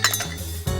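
Almonds tumble into a steel mixer grinder jar while making qaliya naranj, a quick rattling clatter of hard nuts against metal, close and brief, with no talk.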